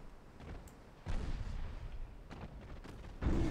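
Warship stern guns firing in the naval video game Ultimate Admiral Dreadnoughts, heavy booming shots at about one and three seconds with rumbling echoes between, fairly faint overall.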